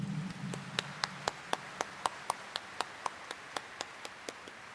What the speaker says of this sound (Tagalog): iparinig nga natin sa mahal na Pong Jesus Nazareno ang mas malakas na palakpak